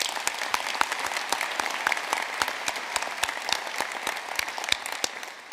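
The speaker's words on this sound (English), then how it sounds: "Let's give them a round of applause." Audience applause at a university graduation ceremony in Belfast, sparse distinct claps mixed into a steady wash of clapping that holds at an even level throughout.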